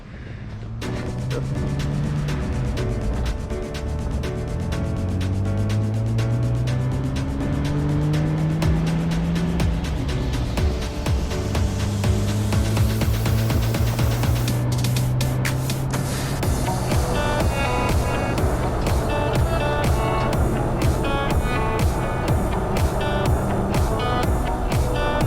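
A Jeep Wrangler LJ fitted with swapped axles and 4.88 gears is driven on a test run, its engine note rising and falling through the gears as a steady road roar fills the whole stretch, with no talking.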